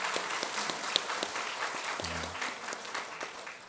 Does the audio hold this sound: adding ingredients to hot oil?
no